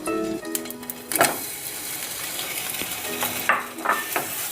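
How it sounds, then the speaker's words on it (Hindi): Khoya roasting in a pan with oil while it is being made into burfi: a soft, close sizzle with several spatula scrapes and clinks scattered through it. "इसको हमने भूनना है थोड़ी देर।"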